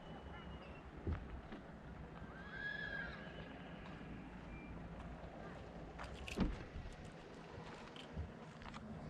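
Horses roaming near a road in Yakutia on an evening drive let out a single whinny at a distance, heard over a steady wind-blown rumble with a few scattered knocks.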